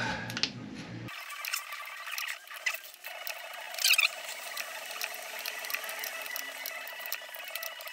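A ratchet wrench clicks steadily while bolts are tightened in a cross pattern, a close, continuous run of fine metallic ticks with a short louder burst midway.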